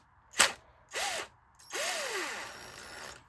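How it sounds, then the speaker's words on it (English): A cordless impact driver backs out screws holding the motor of a World And Main 16-inch pedestal fan, giving three separate close bursts: one short hit, then two longer whirring runs with a rising and falling whine. "we're going to try to do this from the back with the impact wrench or impact driver"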